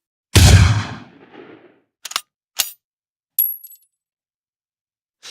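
Field-recorded weapon fire for a game sound effect: one loud, close blast with a decaying tail, then three short sharp cracks and a bright metallic ring, separated by silence.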